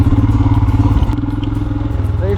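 A Royal Enfield Himalayan 411 motorcycle pulls away in first gear. Its single engine thumps close and loud in a fast, even pulse.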